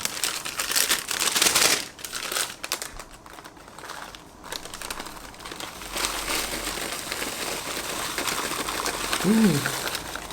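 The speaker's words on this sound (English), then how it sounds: "I will pour the cereal into this plastic bag" Dry cereal rattles and crinkles as it pours into a plastic bag, a rustling, pattering stream with a brief voice near the end.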